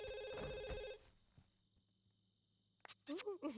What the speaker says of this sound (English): The phone is ringing, but no one hears it.